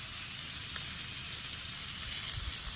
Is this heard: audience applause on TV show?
no